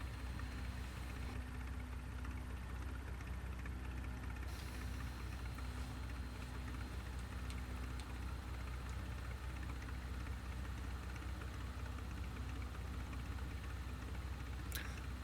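A simulated light aircraft engine idles in a flight simulator, a quiet, steady low hum with faint knocking texture that holds evenly throughout, no voices present.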